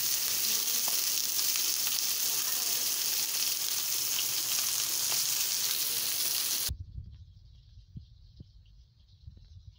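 Food fries in plenty of oil in a kadai with a loud, continuous crackling sizzle. It stops abruptly, leaving quiet clatter and faint background sounds.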